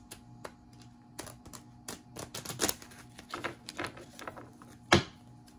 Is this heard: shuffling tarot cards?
yes